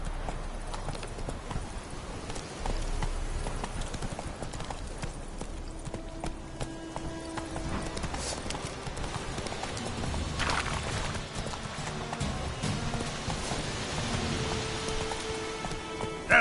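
Roach, Geralt's horse in The Witcher 3, gallops with steady rapid hoofbeats clip-clopping over ground, rain pattering throughout and faint voices now and then in the game mix.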